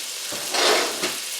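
Frozen chopped onion hitting hot olive oil in a pan, a loud close sizzle that swells as it goes in and settles into a steady hiss, no voices.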